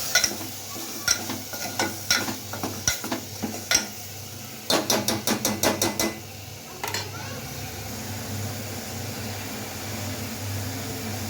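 A spoon scrapes and clacks in a pan as green masala paste is stirred into browned onions, a quick run of taps and scrapes followed by a steady low sizzle.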